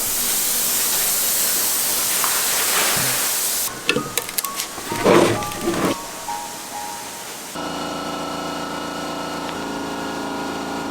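Spray gun laying paint on a car fender at 30 psi inside a cheap homemade garage paint booth, a steady loud hiss for the first seconds, then broken bursts and handling noise, ending in an even fan-like drone.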